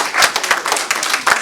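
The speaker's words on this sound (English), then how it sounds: "Give yourselves another warm round of applause again." An audience claps in warm applause, a dense patter of many hands with a few louder bursts, filling the room briefly and continuously.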